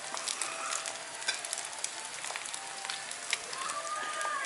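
A meat omelet fries in a pan with a soft, steady crackling sizzle, fairly quiet and even throughout, speckled with tiny pops and no voices.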